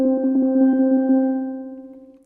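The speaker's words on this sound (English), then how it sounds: "You can also make a rolling sound with the movement of the wrists." A steel pan is rolled with mallets, a single sustained pitch shimmering from rapid, even strokes, close and fairly loud before fading away alone over about two seconds.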